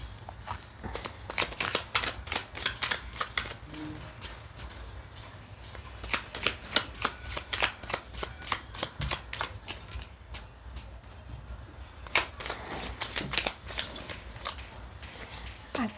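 Tarot cards are shuffled for a reading in a steady run of quick riffling bursts with brief pauses, close and fairly soft, and a voice speaks faintly at times.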